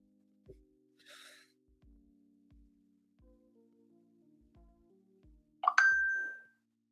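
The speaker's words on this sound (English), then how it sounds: "Let me turn off that notification sound." A phone notification ding rings out once, bright and close, near the end of a quiet stretch of soft faint taps and handling noises.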